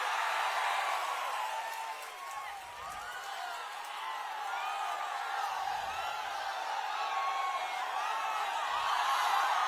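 A large crowd at a political rally claps and cheers continuously, a broad roar of applause with whoops and voices mixed in, heard from within the crowd.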